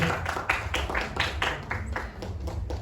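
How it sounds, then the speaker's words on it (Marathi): Applause and clapping from a crowd at a Marathi film trailer launch event, a dense steady patter that runs through the whole moment with a few louder bursts, with no talking over it. "जोरदार टाळ्या झाल्या पाहिजे"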